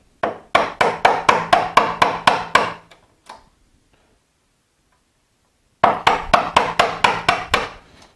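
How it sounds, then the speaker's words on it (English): Steel chisel struck by a wooden mallet while cutting a rabbet in wood: two bursts of sharp, evenly spaced close-up blows, about a dozen in quick rhythm, separated by a few seconds of quiet. "I am going to come back to the chisel and the mallet."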